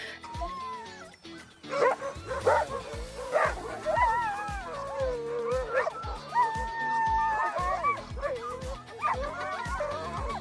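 Several sled dogs in Lapland, Finland bark, yip and whine excitedly in a continuous chorus, some close and loud, with occasional higher howling tones rising over the clamor.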